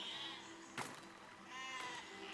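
Sheep bleating in the physics building game Besiege, two wavering, drawn-out cries separated by a short pause, faint and set against a quiet background, with no speech.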